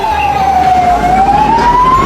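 Ambulance siren on a Sri Lankan street where police wait for a vehicle carrying a body to a hospital, a loud, steady wailing tone that slowly dips and rises again over a low engine rumble.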